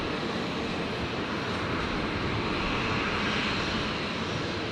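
Rescue 533 aircraft departing Brisbane International Airport, a continuous broad engine roar held steady and fairly loud across the whole stretch, with no voices over it.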